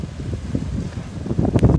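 Wind gusting across Monaco harbour, a steady low rumble of buffeting air against the microphone, loud and unbroken throughout, swelling slightly near the end, with no voices.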